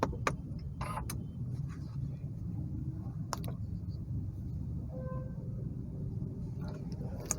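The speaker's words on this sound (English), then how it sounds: "Now let's bring the car to ignition to see more features." Soft clicks and a couple of faint electronic chimes sound as the ignition is switched on, over a low, steady engine hum inside a Škoda Kushaq 1.5 DSG, all fairly quiet.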